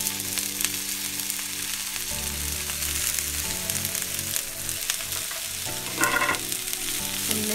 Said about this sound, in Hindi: थोड़ा हल्का सा ऑयल लेना है हमने और अपनी वेजिस लेंगे और वेजिस को सौते करेंगे।